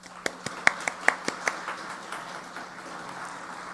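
A few faint, scattered handclaps in a lecture hall at a judicial school, about half a dozen separate claps early on, then quieter room tone.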